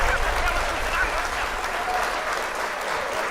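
A small live audience at an FL Studio music-making session gives a round of applause, steady continuous clapping heard throughout with a low background rumble, no voices standing out.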